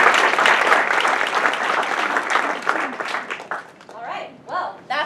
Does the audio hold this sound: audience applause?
yes